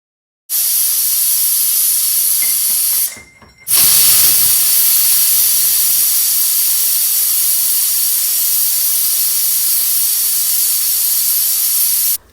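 A pressure cooker whistle releases a loud, steady hiss of steam continuously, briefly cutting off before resuming at full force and holding until the end.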